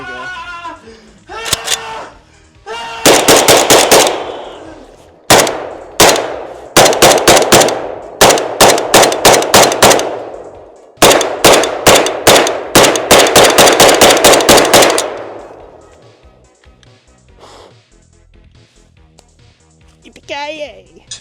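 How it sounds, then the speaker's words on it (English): AK-47 rifle fire comes in loud, close bursts of rapid sharp shots separated by short pauses, followed by a quieter stretch of lingering noise. "So the AK-47 has a lengthy history made by Mikhail Kalashnikov"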